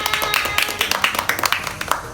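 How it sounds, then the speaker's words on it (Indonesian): Students in a junior high school class clap their hands together, a quick run of dense, overlapping claps that stays close and steady, with a voice talking over it. "Tepuk tangan."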